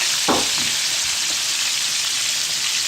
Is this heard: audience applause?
no